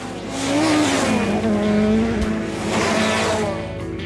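Rally car engines roar and rev loudly and continuously at the Rallye Lyon-Charbonnières 2010, pitch rising and falling as cars pass close by, with no talk.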